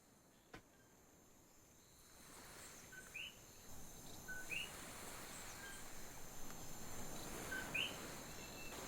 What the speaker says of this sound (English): It's the birds on the beach.